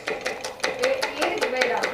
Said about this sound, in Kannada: ಈರುಳ್ಳಿ ಫಸ್ಟು ಹಚ್ಕೋತೀನಿ